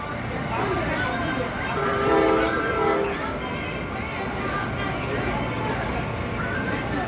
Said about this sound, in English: Here it comes. That's the train we're going to take back home.